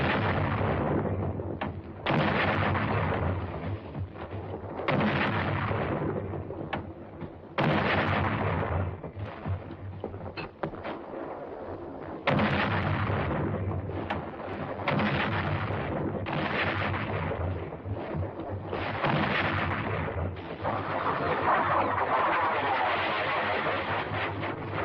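Korean War battle, heavy artillery and gunfire: repeated booming blasts roughly every few seconds, each with a sharp onset and a long rumbling tail, over a continuous roar of fire.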